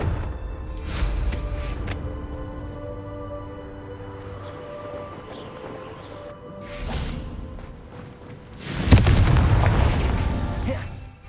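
Confringo blasting spell in Hogwarts Legacy, with loud booming explosions near the start, in the middle and at the end, each bursting with a whoosh and ringing magical tones underneath.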